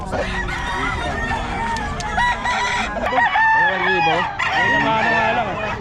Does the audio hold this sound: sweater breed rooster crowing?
yes